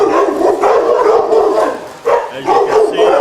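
Energetic dogs bark repeatedly in an outdoor kennel area at a rescue on a rainy day, with loud overlapping barks and yips in quick bursts and a short pause midway.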